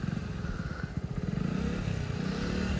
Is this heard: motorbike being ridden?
yes